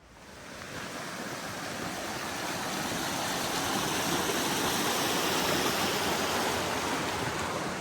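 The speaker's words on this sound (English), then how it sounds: "Still walking beside the river here." A river flows beside an Appalachian Trail path, a steady, full rushing wash of water that swells slightly and then holds constant, close and continuous, with no voices.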